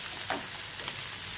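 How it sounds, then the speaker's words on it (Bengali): An egg frying in a pan for fried rice, giving a steady hiss and sizzle with a couple of soft stirring swishes, close and brief, no talking. "এরপর আমি এখানে ডিম ভেজে"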